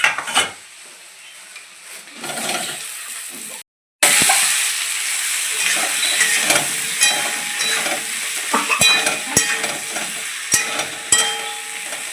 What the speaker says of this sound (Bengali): বেগুন আর আলুটা আমি এখন ভেজে নেবো